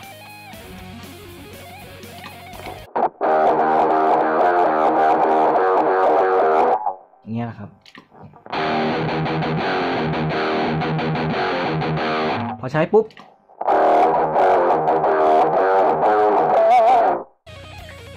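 Distorted electric guitar played through the drive channel of a Zoom G5n multi-effects unit, loud sustained chords in three long bursts separated by short pauses, with a brief spoken phrase at the start.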